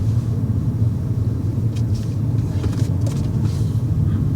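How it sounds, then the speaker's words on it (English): A manual car engine hums low and steady from inside the vehicle during bay parking, a constant rumbling drone with faint wind noise over it. "listen to your engine."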